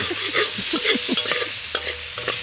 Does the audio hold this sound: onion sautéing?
yes